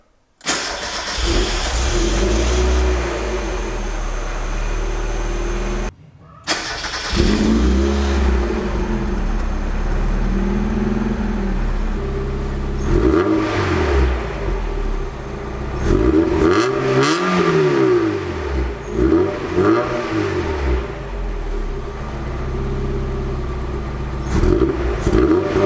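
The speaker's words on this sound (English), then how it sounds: "Just driving around the block now." Mazda MX-5 engine starting and driving around the block, steady mid-pitched engine drone with a brief cut, then varying revs as it accelerates and slows, close and continuous.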